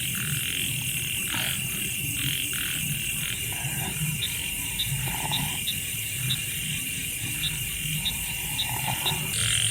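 At night in the forest, a chorus of frogs keeps up uneven croaks against a continuous high ringing of crickets, with sharp, regular chirps pulsing through the background.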